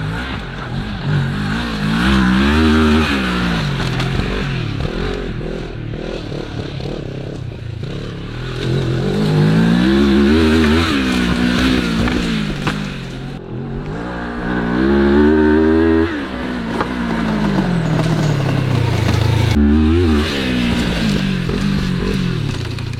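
A Moto Morini 650 X-Cape motorcycle climbing a steep off-road wall, its engine loud and close, revving up and down in repeated surges with clatter and scraping from the terrain.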